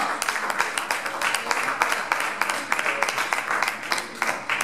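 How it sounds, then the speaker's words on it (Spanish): A church congregation applauds the Lord at a Pentecost service, a dense steady patter of many hands clapping close by, with voices mixed in underneath. "Den un aplauso fuerte al Señor, aleluya"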